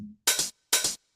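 Layered hi-hat hits play as bright, crisp double-pulsed strikes, two full ones and the start of a third, separated by short silences.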